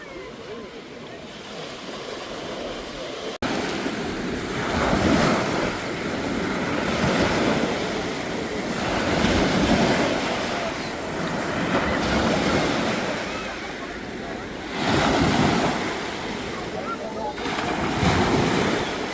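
Sea waves surging and breaking at the shore in rolling swells under strong wind buffeting the microphone, loud and continuous, with voices faintly present beneath.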